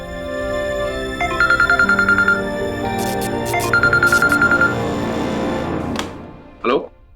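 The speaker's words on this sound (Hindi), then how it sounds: "इसी से फोन आया तो" A phone ringtone plays two bursts of a repeating electronic melody over background music, followed by a short sharp clatter near the end.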